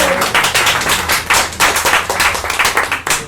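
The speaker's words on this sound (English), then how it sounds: "a big round of applause, please." An audience applauds in a Soho pub venue, with a short burst of close, crisp, uneven clapping from a modest crowd.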